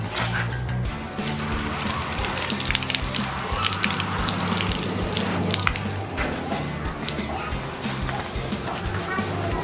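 Water splashes and drips steadily over a waterproof tactical jacket, a soft continuous patter and trickle running beneath a voice throughout.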